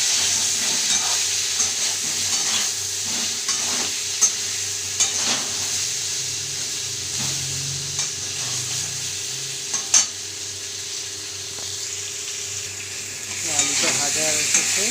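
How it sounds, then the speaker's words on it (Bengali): Potatoes fry in a pan with turmeric and salt, a steady close sizzle and hiss running throughout, with occasional scraping stirs and brief clinks. "তো আলুটা ভাজা হচ্ছে"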